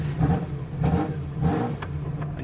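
A Ferrari F40 engine with a sports exhaust revs in three rising surges with a deep, throaty exhaust note, loud and close, settling back to a rumbling idle between pulls.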